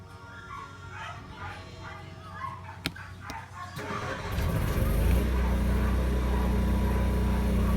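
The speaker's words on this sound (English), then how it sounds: "Prime and start the generator and let it run for a few minutes." An Onan 4kW RV generator cranks briefly and then fires up, settling into a loud, steady running drone that fills the rest of the clip, preceded by faint background noise and a few sharp knocks.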